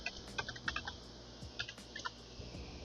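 Someone enters a password on a computer keyboard, making a few light, scattered keystrokes over a faint steady hum, quiet and close.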